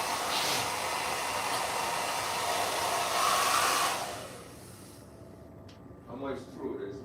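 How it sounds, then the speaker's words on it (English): A hair dryer runs in a bathroom, a loud steady broadband whoosh that holds for about four seconds, then cuts off, leaving quiet room tone with a few faint voice-like sounds near the end. "They are complaining about the dryer."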